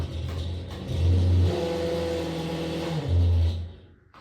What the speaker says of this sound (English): Vent sounds like it might need cleaned out. Maybe the fan is off kilter a little bit